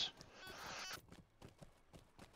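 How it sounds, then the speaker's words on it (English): Horse hooves clip-clopping in the Lord of the Rings Online video game, a steady run of distinct hoof strikes at walking pace following a brief burst of noise at the start. "In the north, ride a horse."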